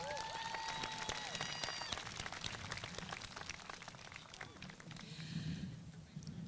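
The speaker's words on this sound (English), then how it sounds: "Let's give them a round of applause." Audience applause at a 2023 Live Oak graduation ceremony, a dense, steady wash of clapping that carries through the whole stretch with some crowd noise underneath.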